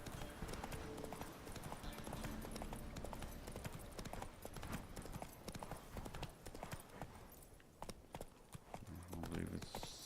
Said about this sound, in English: No, stay on the path, Roach